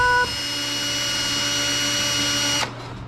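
An electric drill spins a twisted Scotch-Brite pad fed down into the cylinder bore of a Honda Type R engine being swapped into an EK hatchback, giving a steady, loud whine that runs continuously for over two seconds before stopping abruptly.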